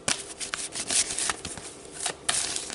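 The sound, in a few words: shuffling and pulling tarot cards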